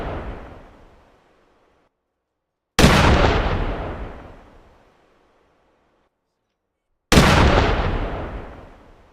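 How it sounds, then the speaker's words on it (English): Two loud, sharp rifle shots during a wild boar hunt, each a sudden blast with a long rolling echo that fades over a couple of seconds, separated by silence. "One clean shot, and the first of the day went down."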